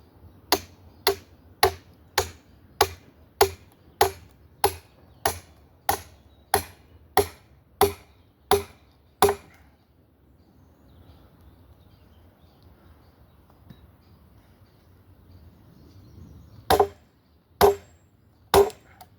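Black locust wood being split by hand, a long run of evenly spaced sharp chopping strikes, then a quiet pause before three more hard blows, close and loud.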